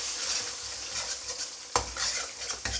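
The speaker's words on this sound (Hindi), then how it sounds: "अच्छी तरह से मिक्स करना है हमने अंडों को और पका लेना है।" Beaten eggs with salt stir-frying in a hot pan for Korean street-style fried rice: a steady close sizzle with scraping spatula strokes and a couple of sharp utensil clinks, no voices.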